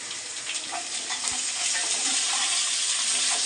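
Ginger garlic paste sizzles loudly in a hot pan with onions, a dense continuous hiss close by, with a faint thud or clink of a utensil partway through and no talking.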